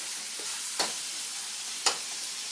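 Minced garlic and ginger frying with pork for ma po tofu, a steady bright sizzle held close, broken by two sharp crackling pops, no voices.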